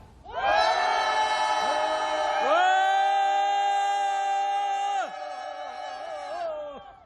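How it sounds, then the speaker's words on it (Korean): A crowd of students at a Seoul National University campus rally raises a sustained shout together, a loud unbroken roar of many voices lasting about five seconds before easing off. "다 같이 5초간 함성."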